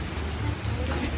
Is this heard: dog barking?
no